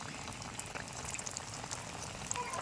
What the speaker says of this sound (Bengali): এ দেখুন আমি ডুবোর তেলে ভাজছি